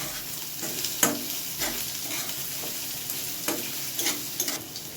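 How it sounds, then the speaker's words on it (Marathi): Onion sautéing with curry leaves and green chilli in a pan, a soft close sizzle broken by repeated stirring scrapes and clinks of a spoon against the pan, no voices. "परतून घेऊ आपण."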